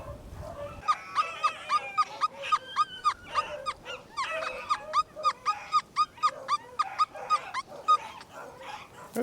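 Several dogs bark and yelp close by in an open pasture in rapid, repeated bursts, a noisy overlapping chorus that pauses briefly and resumes.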